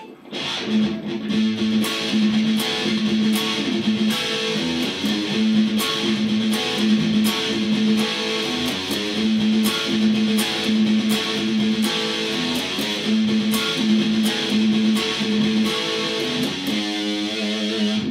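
A distorted electric guitar plays a repeating riff alone, loud and driving, with a steady rhythmic pattern throughout.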